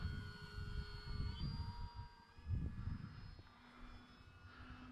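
An OMP Bighorn RC model airplane on its maiden flight, a thin whining electric motor tone drifting in pitch as it passes at a distance, with low wind rumble underneath.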